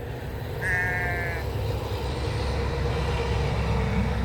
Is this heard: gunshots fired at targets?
no